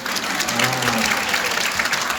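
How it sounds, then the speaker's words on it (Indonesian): A seminar audience claps together after being asked to applaud, a steady wash of many hands lasting the whole moment with a low murmur underneath. "Tepuk tangan dong."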